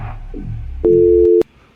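A steady electronic phone busy tone after a call is cut, loud and continuous for about half a second after a short click, then it cuts off abruptly.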